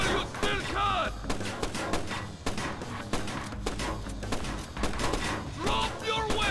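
Blind gunfire from enemy guards in Splinter Cell: Chaos Theory, rapid overlapping bursts of shots rattling continuously and loudly for several seconds, with faint voices underneath.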